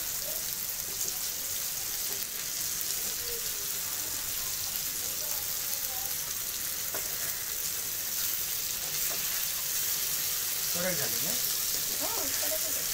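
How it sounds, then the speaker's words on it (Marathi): Surmai fish pieces with kokum sautéing in a pan give a steady broadband sizzle throughout, with faint stirring scrapes and brief voice-like tones near the end. "मच्छी फ्राय झाली त्याला परतून घ्यायची व्यवस्थित"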